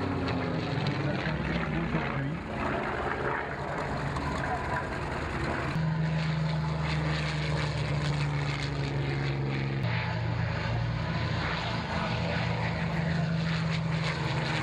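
A propeller single-seat fighter plane engine drones loudly and continuously at an air show, its pitch shifting slightly partway through, with a voice faintly audible under the noise.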